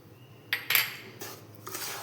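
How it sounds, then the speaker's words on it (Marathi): Modak filling mixed in a pot, with a few close metallic scrapes and clinks of a spoon against the vessel, two sharp strokes followed by softer stirring. "ह्याला अगदी व्यवस्थित मिक्स करून घ्यायचं"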